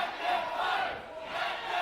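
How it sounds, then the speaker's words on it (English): A wrestling event crowd shouting and roaring in a venue, a loud, continuous wall of mixed voices that swells, dips briefly in the middle, then rises again. "Listen to the crowd."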